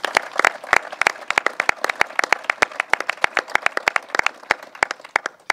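Scattered hand claps from a small audience honoring Stony Brook researchers, sharp and distinct, coming fast and somewhat uneven at first before thinning out over several seconds.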